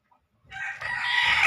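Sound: native country chickens clucking and crowing

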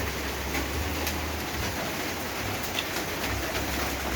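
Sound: rain falling

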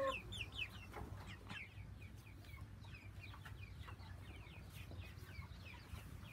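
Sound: chickens clucking

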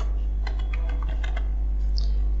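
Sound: typing a name on a computer keyboard

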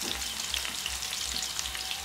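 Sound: chopped onion sizzling in hot oil with spices

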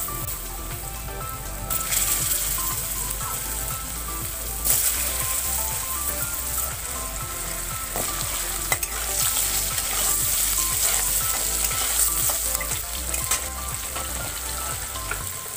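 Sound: potatoes frying in oil

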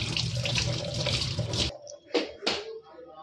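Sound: washing something under running tap water

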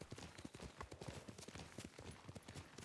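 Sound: horse hoofbeats in video game Ghost of Tsushima

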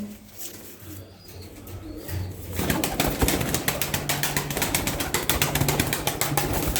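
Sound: pigeons (costume birds) fluttering and flapping wings

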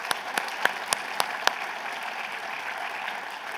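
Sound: audience applause

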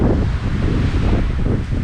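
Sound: strong mountain wind in the Carpathians

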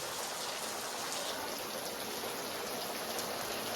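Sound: rain falling outside in the evening

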